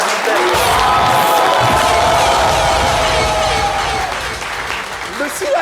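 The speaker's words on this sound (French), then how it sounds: "Applaudissements pour Désir" Studio audience bursts into loud applause and cheering for a guest at a live talk show, with a host talking over the crowd noise that fades slightly toward the end.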